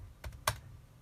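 Keys on a computer keyboard are struck for a terminal command, two or three quick, close taps with a faint hum behind them.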